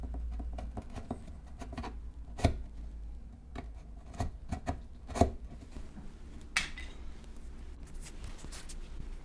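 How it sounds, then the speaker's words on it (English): Quiet, intermittent taps and scraping cuts as a knife and then a chisel work into wood for a box, a few sharper clicks standing out among softer scratches, close up and without talk. "Cut first with a knife and now with a chisel."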